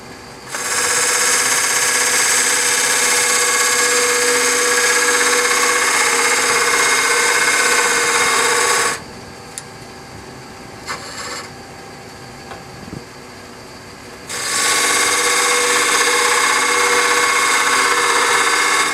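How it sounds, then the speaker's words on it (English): Wood turning on a lathe with a skew chisel laid on its side, a loud continuous broadband hiss and whine that stops for several seconds mid-way, then resumes just as loud. "I'm cutting it with my skew laid on the side"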